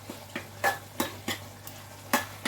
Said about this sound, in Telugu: నువ్వు టమాటా కర్రీ అండు అని అన్నావు, అందుకని టమాటా కర్రీ వండుతున్నావు